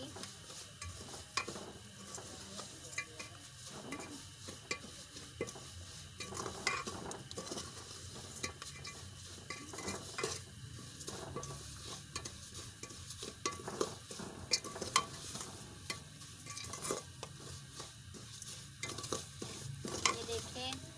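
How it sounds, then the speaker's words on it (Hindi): Broken wheat for sweet daliya dry-roasting in a pan, with repeated scraping stirring strokes of a spoon against the metal over a faint, steady sizzle, close and continuous without talk. "ये देखिए हमने इसको अच्छी तरह से भून लिया है।"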